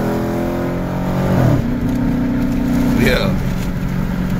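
A 2012 Dodge Challenger R/T running straight pipe exhaust gives a loud, deep, rumbling idle. Near the middle it swells briefly into a rev with a rising pitch, and people talk over the steady rumble throughout.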